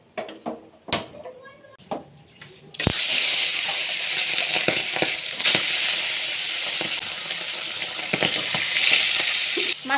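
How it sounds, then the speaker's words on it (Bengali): Fish frying in a pan in a home kitchen gives a loud, steady sizzle that starts abruptly after a few seconds of quieter kitchen noises and continues to the end, with occasional knocks. "মাছটা এদিকে তো ভাজা বসিয়ে দিলাম"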